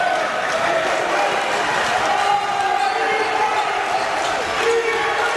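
Basketball crowd noise in a school gym during a boys' varsity game, St. Mary's vs St. Joe's, with fans roaring steadily to urge the Panthers on defense, a sustained loud wash of voices with a ball bouncing underneath.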